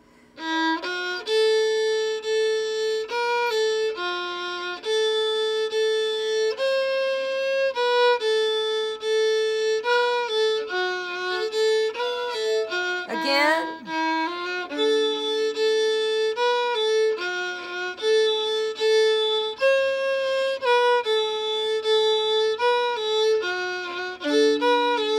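A bowed fiddle plays the second part of the old-time tune Cotton Eyed Joe, crisp repeated notes with a brief swooping slide midway, alone and up close.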